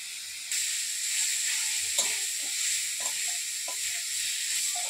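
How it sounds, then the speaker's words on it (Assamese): A steady, bright sizzle of shrimp frying in hot oil starts abruptly and continues evenly, with a few light clinks and stirs over it. "এতিয়া মিছা মাছ ভাজিটো দি দিব"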